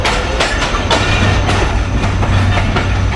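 Container train rolling into Khanpur junction, its wheels beating a steady clickety-clack over rail joints, with repeated sharp clacks every half second or so over a loud, continuous low rumble.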